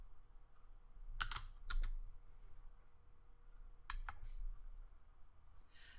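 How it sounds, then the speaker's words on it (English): Computer keyboard typing while entering a function name into Excel 2010's function search box: a few quick bursts of clicky keystrokes with pauses between them, fairly faint and close, no talking. "start typing it in the search for a function text box"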